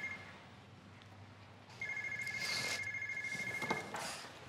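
Telephone ringtone in a home setting, an electronic tonal ring that starts faintly, then sounds louder and steady for a couple of seconds before cutting off, with faint background movement.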